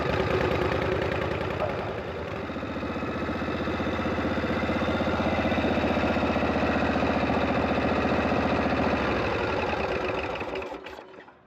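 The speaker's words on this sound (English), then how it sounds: "Yeah, she's idled way too high." A David Mann chopper motorcycle engine idles high, a steady close rumbling putter that holds for about ten seconds before cutting off.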